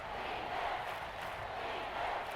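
Seahawks home crowd roaring steadily at a USFL football game against the Panthers, a dense, continuous stadium wash of voices that stays loud and even throughout without breaking into distinct cheers.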